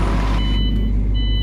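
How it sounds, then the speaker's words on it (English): A tachograph warning in a truck simulator game beeps as a steady high electronic tone over a loud, constant low truck engine rumble. "My tachograph is actually beeping again."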